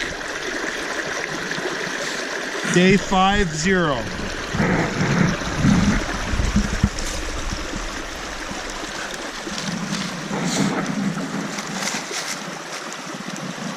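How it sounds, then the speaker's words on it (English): Water rushing steadily through Trout Creek on the Appalachian Trail, a broad continuous wash with someone speaking briefly over it near the start. "This is Trout Creek."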